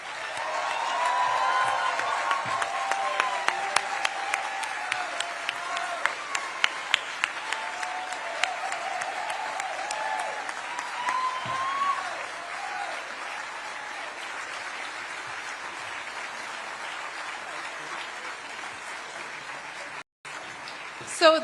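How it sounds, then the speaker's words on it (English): A large hall of delegates at a Maine Democratic convention gives a long round of applause, steady and full at first, then softening into a quieter, sustained patter that trails on for many seconds. "Let's give them all a huge round of applause"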